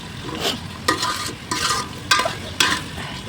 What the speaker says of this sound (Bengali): আর এখানে পেঁয়াজ আর লঙ্কাটা ভাজছি